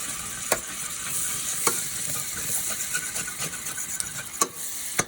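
A utensil scrapes the bottom of a pan while stirring, with repeated scratchy strokes over a steady sizzle of frying turkey tenderloin and portabella mushrooms.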